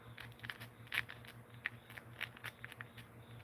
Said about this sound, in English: the legs and arms, when you move them, make a bone crunching noise